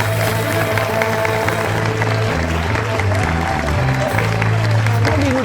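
Studio audience applauding on an Ethiopian television talk show, a steady wash of clapping that runs unbroken throughout, mixed with sustained tonal sound and voices.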